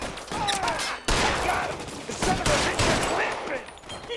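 Gunfire in the video game L.A. Noire: loud, close bursts of rapid shots erupting in several waves, with a sharp onset around the first second and intermittent volleys throughout.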